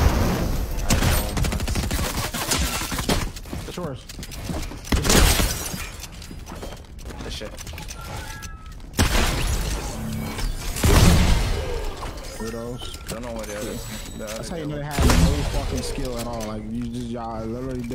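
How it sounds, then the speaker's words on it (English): Repeated volleys of gunfire crack through a Fortnite build mode match, with loud bursts every few seconds alongside mechanical clatter and shattering, while players talk over the shooting throughout. "You shooting on somebody?"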